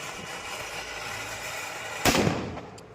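A single loud firecracker bang bursts out during Diwali over steady background noise, followed by a short crackling decay.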